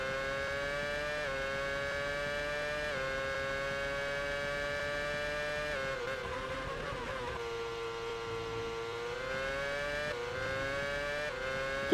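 A Formula Regional race car on a Brazilian GP circuit holds a steady, high engine whine with slight pitch shifts from gear changes, sustained and fairly even throughout.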